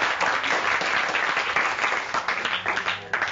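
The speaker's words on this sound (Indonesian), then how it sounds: "Kita beri tepukan kumpulan ini" A classroom audience gives a short round of applause for a student group, brisk overlapping hand clapping that holds steady, then fades near the end.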